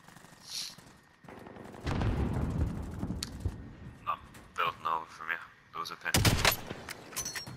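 Gunfire in the video game Call of Duty Warzone crackles in bursts of shots, mixed with voices talking over the action and short sharp impacts.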